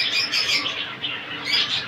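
Caged birds at the Korangi bird market chirp and tweet in a dense, overlapping chorus of high calls, loud and close throughout.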